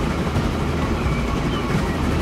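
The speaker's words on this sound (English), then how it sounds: "Not just enjoy driver's view of a typical steam engine, as this one is a massive train." A large German steam locomotive in Transport Fever 2, heard from the driver's view, rumbles along as a continuous, loud, low-pitched roar with no distinct beats or breaks.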